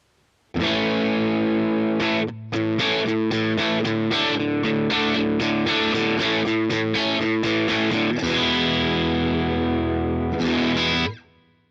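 Electric guitar played through an HX Stomp with extra drive and a drier reverb, loud distorted chords and riffs ringing out continuously with short clipped breaks and a sustained final chord, no talk.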